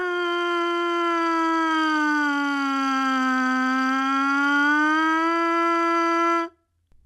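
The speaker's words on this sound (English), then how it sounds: "Siren down, then return to the feeling of the starting pitch." A trumpet mouthpiece buzzed alone plays a smooth siren slide, its pitch gliding down and then back up to the starting note in one sustained, loud tone lasting about six seconds before stopping abruptly.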